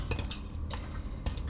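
Popcorn made in a cooking pot with no oven, heard as a dense, continuous rattle and clatter of kernels against the metal pot, with a few sharper knocks.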